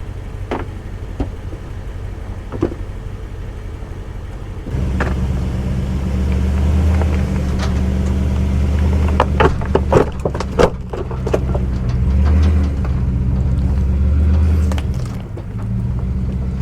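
A truck engine labors steadily and loudly while climbing on steel-plated Bunker Industries traction boards placed under the rear tires, the drone swelling and easing with a few clanks and knocks mixed in.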